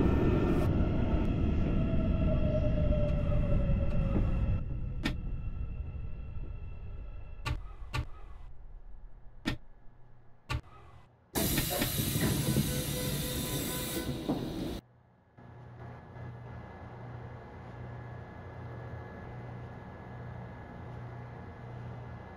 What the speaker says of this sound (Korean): 열차 출발했습니다.